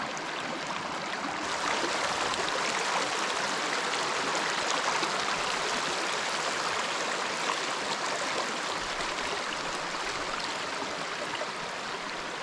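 Small waterfall stream at Cascade Springs, a steady rushing broadband wash of flowing water, close and continuous throughout without any talk.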